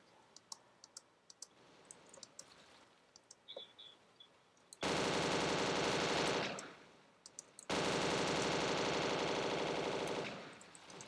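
Sustained automatic gunfire in the Roblox game Neighborhood War, two long loud bursts of rapid shots after scattered quieter clicks, heard without talk.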